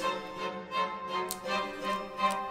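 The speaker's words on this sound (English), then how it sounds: "clean the shrimp, cut the eye off" A knife cuts the eyes off shrimp, giving a quick run of close, crisp chopping taps in an irregular rhythm.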